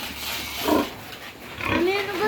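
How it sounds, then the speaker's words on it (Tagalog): Hungry pigs on a rural farm in the Philippine countryside grunt in a couple of close, rough bursts, with people talking over them. "Baboy!"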